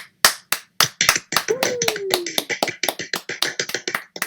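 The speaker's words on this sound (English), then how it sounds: "a round of applause to Heel Balor" A small group claps for the wrestler Heel Balor: roughly twenty sharp, separate claps, close and fairly loud, landing in an uneven rhythm that speeds up toward the end, with a brief rising whistle-like tone near the middle.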